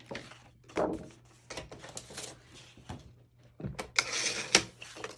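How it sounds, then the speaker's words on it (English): Several dry mechanical thunks and scraping slides of a paper trimmer, spaced irregularly, with a sharper cluster of cutting sounds near the end. "then cut it down with our paper trimmer"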